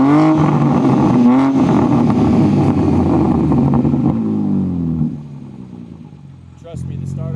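BMW G80 M3 with the S58 engine and a 4-inch mid-pipe exhaust in Sport Plus mode, a loud, close, raspy idle and engine rumble that drops off, then rises again, with someone talking over it.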